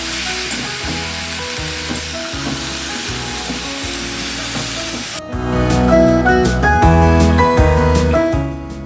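Cauliflower curry filling for Bengali singara sizzling in a pan while being stirred, a steady bright fry with rhythmic scraping strokes that grows louder and busier partway through, close up and without talk.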